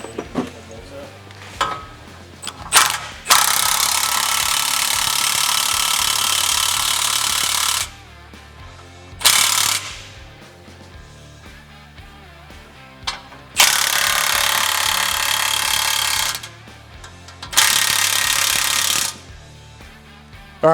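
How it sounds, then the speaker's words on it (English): A ratchet or power driver cranks the torsion bar adjustment bolts on a GM HD truck in several long, loud, buzzing bursts separated by short pauses, with brief clicks between runs. "I'm gonna go ahead and crank the bolts up"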